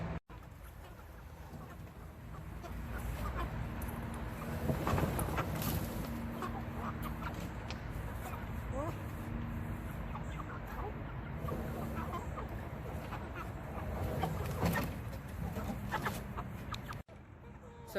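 Meat chickens cluck and murmur during chicken chores, a busy flock heard close by under steady outdoor background noise, with occasional louder calls and a brief bump near the end.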